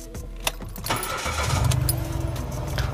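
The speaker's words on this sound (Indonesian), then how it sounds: "Tapi sebelumnya gue mau nyalain dulu mesinnya ya" A 2015 Mitsubishi Mirage Sport GLS automatic small car cranks briefly, then catches and settles into a steady, close, slightly rough idle.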